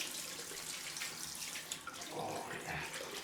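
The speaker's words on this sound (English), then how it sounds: "Get some cold water running." Cold water runs steadily from a bathroom tap into a sink, a continuous close hiss and splash that holds for several seconds with no talking.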